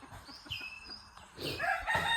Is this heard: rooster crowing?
yes